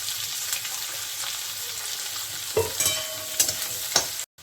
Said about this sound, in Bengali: ওই তেলে আমি দুটো মাঝারি আকারে পেঁয়াজটাকে ভেজে নিচ্ছি